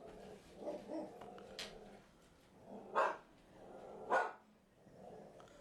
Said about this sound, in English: I have a few dogs in my house, and they just are not cooperating at all.